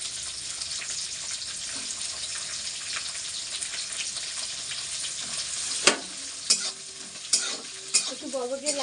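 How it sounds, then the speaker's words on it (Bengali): Yardlong beans and greens fry in a pan with a dense, even sizzle throughout. Toward the end, louder stirring clanks and scrapes break in near the microphone. "এবারে এটাকে আমি কষাচ্ছি"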